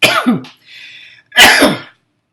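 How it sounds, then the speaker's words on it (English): Someone sneezes forcefully up close, a sharp burst followed by a short wheezy breath and a second explosive sneeze, with no talking. "I got to sneeze."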